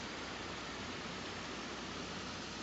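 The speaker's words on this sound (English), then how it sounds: "Here we have come upon some more waterfalls." Waterfalls along a hiking trail produce a soft, unbroken hiss of falling water, steady and diffuse with no breaks, heard from a moderate distance.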